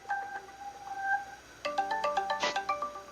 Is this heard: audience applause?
no